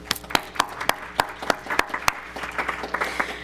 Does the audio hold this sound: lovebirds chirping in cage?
no